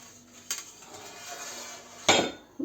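Crushed, lightly toasted peanuts are stirred in a bowl, with a few clinks and scrapes of a utensil against the dish, close and fairly quiet, plus one louder knock near the end.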